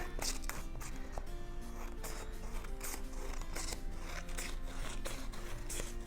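Scissors snip repeatedly through paper during a kids' Easter arts and crafts session, a steady run of close crisp cuts and rustles with no talking.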